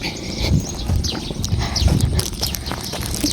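Two-wheel farm tractor (rot e-taek) engine on a muddy, rain-soaked village road: a steady, rhythmic low chugging with evenly spaced thumping pulses, close and fairly loud, running throughout.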